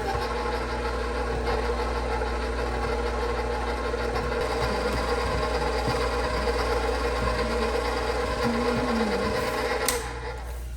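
An electric mixer beats flour into pound cake batter in a bowl, a continuous close-up motor whir with a steady hum and a faint scraping wobble, running without talk until it winds down near the end.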